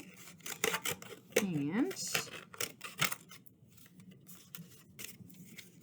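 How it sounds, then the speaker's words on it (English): Paper plate snipped in half with scissors, several quick close cuts mixed with crinkling paper, quiet and partly under a speaking voice. "I'm going to cut my plate in half."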